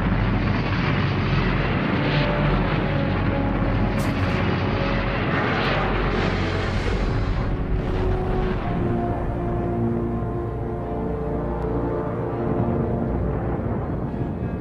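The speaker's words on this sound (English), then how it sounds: "Vanguard rises a few feet, loses power, and explodes" Vanguard rocket at ignition, a loud, sustained broadband roar that rises a few feet, falters as power drops and erupts into a rumbling explosion, heard alone on an old broadcast recording.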